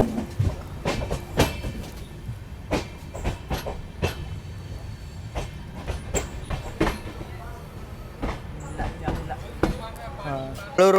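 Matsyagandha Superfast Express, an LHB-coach train running on single-line track, with steady rail rumble and rhythmic clickety-clack of wheels over joints, heard from on board with voices talking beneath.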